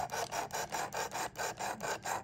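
A Damascus-bladed Civivi knife stroked against the stone of a Worksharp Precision Adjust sharpener, about eight quick, even rasping passes in steady rhythm, close but quiet.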